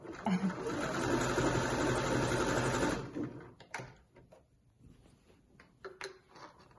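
A sewing machine stitching a fluffy snood runs loud and steady for about three seconds, then stops, leaving quieter handling noises and faint voice-like sounds.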